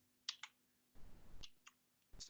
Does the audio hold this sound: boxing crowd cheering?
no